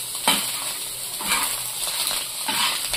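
Food with salt and turmeric is stirred in a pan, giving soft scraping strokes over a low steady sizzle, with about three distinct stirring motions.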